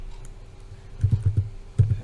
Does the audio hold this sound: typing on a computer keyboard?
yes